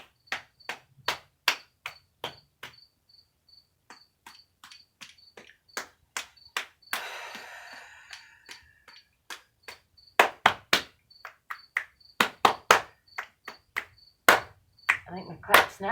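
Hand claps and finger snaps ring out sharp and close during a stretching exercise, coming in irregular bursts and quick runs with short gaps between them. Brief rustling is heard partway through.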